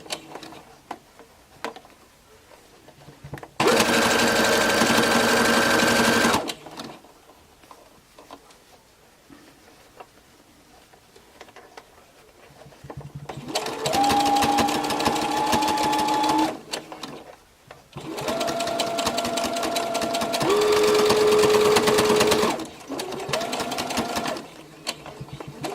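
A sewing machine stitches fabric strips for a raggy flower brooch in three separate runs. Each run is a loud, steady mechanical whir, with quiet handling sounds between them.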